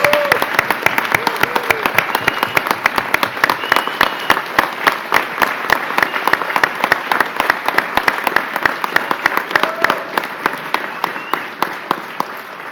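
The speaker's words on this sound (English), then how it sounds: "Can we please give them a huge round of applause?" Audience applause at a hospital announcement for a new Brooks Memorial Hospital, a dense, steady burst of many hands clapping close by for the whole stretch, with scattered cheers and voices mixed in.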